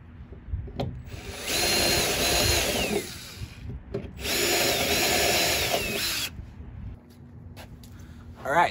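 A power drill boring holes in a pickup truck bed, with two loud, close bursts of whining drilling separated by a short pause, plus scattered handling clicks and knocks.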